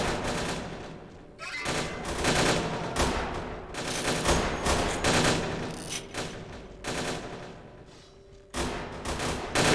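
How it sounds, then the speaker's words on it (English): Sustained bursts of gunfire as characters shoot each other in Vampire: The Masquerade – Bloodlines with the Clan Quest mod, loud dense volleys and rapid automatic fire with brief pauses, continuing across the whole stretch. "Then they immediately try to do the handoff, and they start shooting each other."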